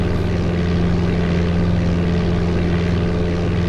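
Steady, loud droning hum of a Cessna propeller engine from the game Flight Simulator 95, a continuous bass-heavy buzz with no pauses and no voices.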